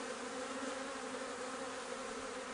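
Honey bees buzzing inside a nuc hive being transferred in April, a steady droning hum held throughout, fairly faint but clear, with no talking.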